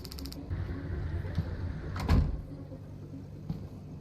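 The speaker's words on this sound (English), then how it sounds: "I shut the front door and couldn't open it again" A front door shuts in a horror video game, one solid thud with a brief rattle in a quiet room, followed by faint knocks and creaks.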